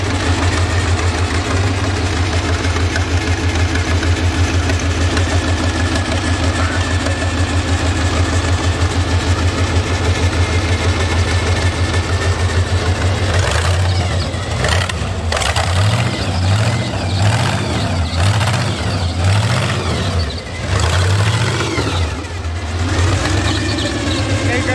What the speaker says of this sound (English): Just listen how nice this motor sounds.